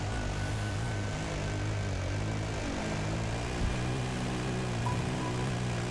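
A helicopter in the Dakar Desert Rally video game gives a loud, steady rotor and engine drone that holds unbroken for the whole six seconds, with no talking over it.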